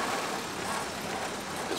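Ford Model A car engine running while driving, a steady close rumble with road noise filling the short stretch, no talk.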